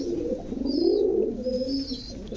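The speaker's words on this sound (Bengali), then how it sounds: "এগুলো ভাই সাপচিলা কবুতর ভাই। সাপচিলা কবুতর।" Sapchila pigeons cooing in a loft, a continuous low throaty burble from several birds close by with faint higher chirps overhead.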